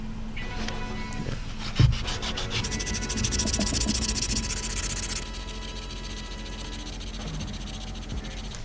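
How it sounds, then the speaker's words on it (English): Hand sanding on the front lip of a G35, a close, continuous abrasive rubbing that holds steady throughout, marked by one sharp knock early on, with no talking. "I'll just sand this down"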